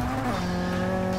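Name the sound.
tires squealing on race car, video game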